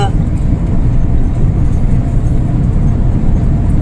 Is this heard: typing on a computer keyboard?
no